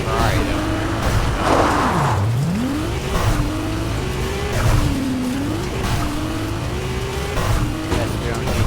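A Ferrari driven in Fortnite roars with a rising and falling engine note through gear changes, with tire squeal and skidding. Players talk over the engine throughout.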